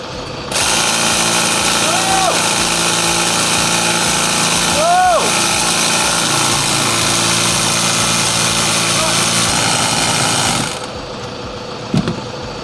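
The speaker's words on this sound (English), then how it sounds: "You've got to plug in the compressor." An air compressor starts and runs loud and steady at close range for about ten seconds before cutting off abruptly, with brief voices heard over the motor.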